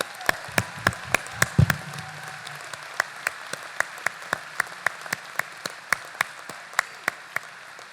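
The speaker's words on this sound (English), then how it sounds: "Give yourselves a round of applause." Graduates and guests at an in-person spring convocation clap, opening with a burst of dense applause that soon thins into slow, evenly spaced individual claps carrying on steadily to the end.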